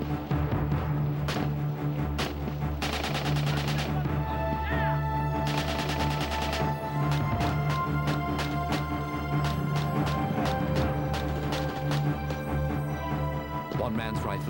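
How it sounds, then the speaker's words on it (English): Rifles fire in a military firefight during a rapid deployment operation. Sharp shots crack in quick bursts and single reports, heard at mid distance over a constant loud mechanical drone, with a voice narrating throughout. "Fire is returned, but is disciplined, controlled shooting."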